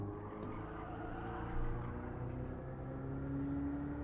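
Race car in a racing video game accelerating out of a corner on boost with no gear change, a steady rising engine whine sustained for several seconds at moderate level.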